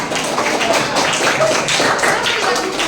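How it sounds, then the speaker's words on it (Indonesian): Students at a vocational high school outreach session held at a junior high school in Tolitoli clap together, a steady rattle of many hands throughout, with some voices faintly mixed in. "Tepuk tangan"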